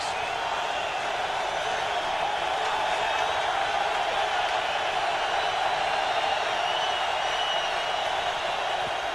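Stadium crowd at an NFL game between the Atlanta Falcons and New England Patriots in 2009, heard as a steady, even crowd roar that continues unbroken throughout.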